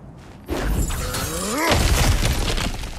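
A loud shattering crash in God of War Ragnarök as an obstacle is smashed through, with a heavy breaking burst, debris clatter and a rising magical whoosh, followed by sustained crumbling rumble.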